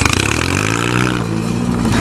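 A manual-transmission car driven by a learner pulls away. The engine is loud and close, with a steady revving drone that shifts in pitch over about two seconds.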